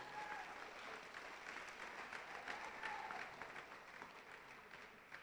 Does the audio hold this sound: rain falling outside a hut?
no